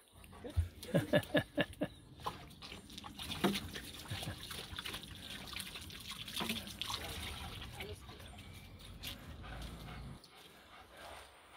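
A dog laps water from a bowl, a run of quick wet laps at the start followed by softer trickling and splashing, with a voice speaking in the background.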